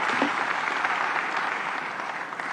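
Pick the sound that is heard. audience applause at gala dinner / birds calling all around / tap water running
audience applause at gala dinner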